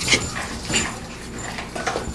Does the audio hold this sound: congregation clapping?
no